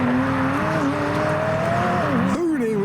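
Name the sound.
McLaren 600LT driving hard past, Taycan behind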